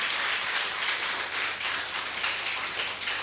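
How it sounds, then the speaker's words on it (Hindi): Sustained, dense applause from an audience at a spiritual meditation festival, steady hand clapping filling the whole stretch without a break or any speech. "एक बार जोरदार तालियों के साथ।"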